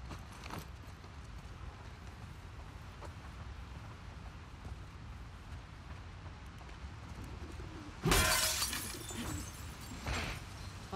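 Glass shatters in The Last of Us Part II with one sudden, loud crashing burst after a quiet stretch of soft ambience and faint bird calls, followed by trailing tinkles.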